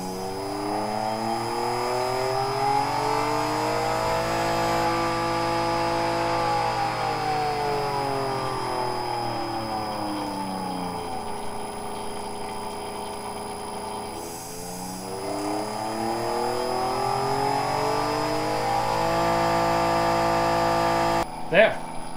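A vacuum pump runs deadheaded, pulling just under 29 inches of vacuum. Its whining motor tone rises and falls in long, slow sweeps, drops briefly near the end, then ends with a sharp click.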